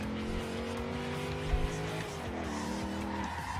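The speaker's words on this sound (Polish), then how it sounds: "O, jest drifting na hamulcu." Tires squeal through a handbrake drift in Forza Horizon 2, a sustained screech riding over a steady engine drone with pitch sliding as the car swings, close and continuous with no talking.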